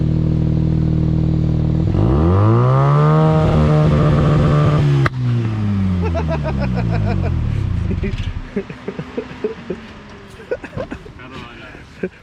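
A turbocharged Subaru car engine revs hard toward redline out in the countryside, rising and falling loudly up close, then settling into idle clatter while people talk nearby.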